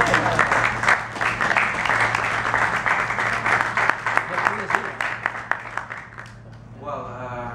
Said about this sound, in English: a round of applause would not be bad